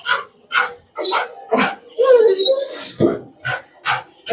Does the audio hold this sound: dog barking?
yes